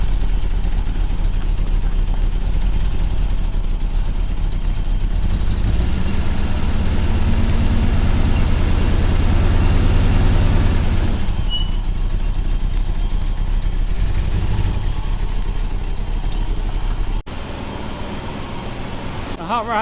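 A 1972 Mercedes 300SEL 4.5 engine runs steadily at idle after nasty fuel is replaced with clean fuel, loud and close, with a low rumble that shifts slightly in pitch and a brief change near the end.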